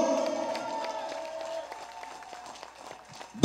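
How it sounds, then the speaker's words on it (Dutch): Crowd applause at an outdoor community celebration of Javanese immigration, a steady patter of clapping over a murmur of voices, moderately distant and tapering slightly before a final sharp clap. "Wan big applaus!"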